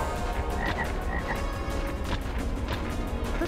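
Frogs croak in a dense, continuous chorus in the Altered Beast video game, loud and near, with rapid overlapping calls throughout and no talk.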